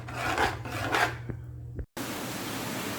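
Cooked maja blanca being scraped from a pot into a container, a steady close rasping scrape that runs continuously, breaks off briefly, then resumes.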